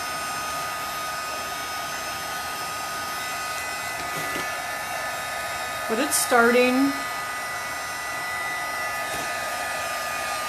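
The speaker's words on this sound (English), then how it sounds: "you can use the heat gun or the hair dryer to kind of speed it up" A hair dryer blows steadily on crackle paint over a ceramic pumpkin, a constant close whoosh that fills the whole stretch, with a brief voice speaking partway through.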